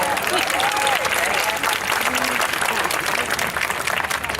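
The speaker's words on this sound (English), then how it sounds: "So if you could direct your applause that way." Graduation audience applauding steadily, a dense sustained wash of clapping throughout with faint crowd noise mixed in.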